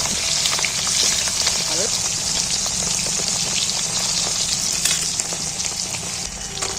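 Cauliflower pieces fry in oil in a pan as they brown, giving a loud, continuous crackling sizzle with scattered pops throughout.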